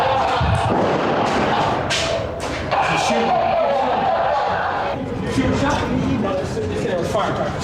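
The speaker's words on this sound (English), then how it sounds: "that was a firecracker" Sharp firecracker bangs and thumps crack out amid a noisy crowd in a Chicago housing project stairwell, with several loud pops scattered over several seconds and people talking around them.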